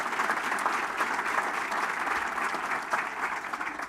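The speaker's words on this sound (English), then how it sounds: "let's give them all a round of applause for their service to our community" Steady applause from a civic audience at a city address, dense and even throughout, with no speech over it.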